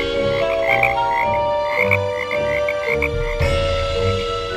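Frogs croak loudly in a pond, with several overlapping voices calling in a dense, continuous chorus and close, prominent croaks layered over one another.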